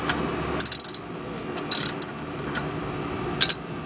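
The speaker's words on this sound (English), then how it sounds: "you want to get your socket wrench again. This time you're going to do a righty-tighty." A socket wrench ratchets to tighten the oil drain plug on a truck, giving several quick bursts of close, crisp clicking separated by short pauses.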